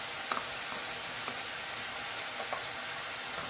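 Masala paste of onion and tomato frying in hot oil, a dense, steady close sizzle with faint stirring scrapes now and then.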